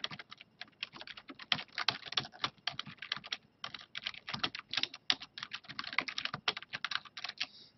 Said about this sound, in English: And I just have to type something.